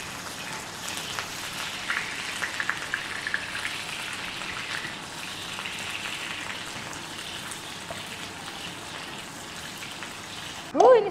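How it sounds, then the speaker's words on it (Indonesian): Chopped shallots and garlic hit hot oil for Betawi soto, giving a steady, close crackling sizzle that runs throughout, with a sharper burst near the end. "ini minyak sudah panas, kita kasih masuk bawang. Bawang merah, bawang putih semua ya."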